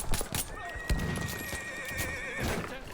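A horse neighs loudly in Battlefield 1, a long whinny with clip-clop hoofbeats and gunfire-like bursts around it, partly under talk.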